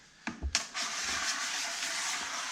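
A tool scrapes joint compound down the sides of a bucket: a few knocks and scrapes at first, then a steady rough scraping rub that carries on close by.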